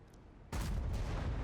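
A single loud, booming tank cannon shot from an AMX M4 54 in a video game erupts suddenly after a moment of quiet, followed by a sustained rumbling roar.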